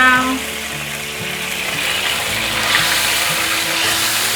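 Red mushrooms and red bell pepper are stir-fried in a pan of seasoned sauce with a steady, loud sizzle, and faint music plays underneath.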